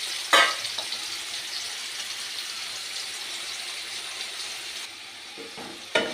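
Marinated paneer pieces fry in hot oil in a wok, giving a steady, moderately quiet sizzle with a couple of brief louder crackles when they are stirred.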